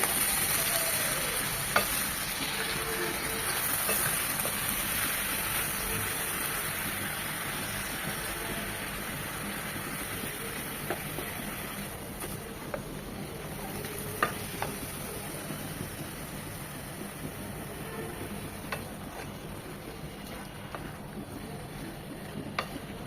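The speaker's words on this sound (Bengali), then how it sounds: "এখন সব কিছু নেড়ে চেড়ে মিশিয়ে নেবো" Bottle gourd greens and vegetables stir-fried in a pan with whole green chillies and salt, giving a steady, soft sizzle with occasional spatula scrapes throughout, fairly quiet and without talk.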